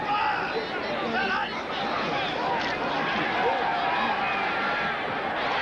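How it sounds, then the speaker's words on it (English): Stadium crowd at a 1994 Seattle Seahawks at Denver Broncos football game cheering quarterback John Elway, a dense continuous roar of voices and chatter filling the whole stretch. "You can hear the crowd cheer John Elway as he begins in the jet from the shotgun."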